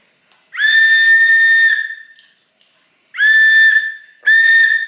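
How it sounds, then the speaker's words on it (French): A small keyring whistle blown three times: a long shrill blast, then a pause, then two shorter piercing blasts in quick succession, loud and close. "Ah, un sifflet."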